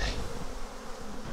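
Honey bees buzz in a steady, faint drone around an opened hive during a split of a defensive colony, with no voices.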